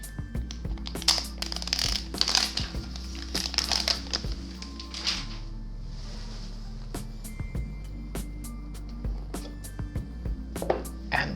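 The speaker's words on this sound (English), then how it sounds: "So let me quickly unwrap the device and open the smartphone" Packaging of an Apple iPhone 11 Pro being unwrapped, with close crinkling and crushing rustles in irregular bursts, a quieter pause midway, then a few sharp crackles and tears near the end.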